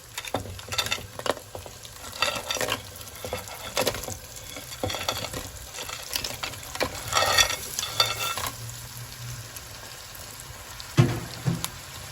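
Crab goes into a hot pan with spices and is stirred, giving an uneven sizzle and frying crackle with scraping stir strokes throughout, close and moderately loud, with no talking.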